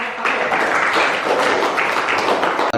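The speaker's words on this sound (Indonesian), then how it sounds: "tepuk tangan dulu untuk" A crowd claps continuously, a dense, steady burst of applause that holds at an even level for a few seconds.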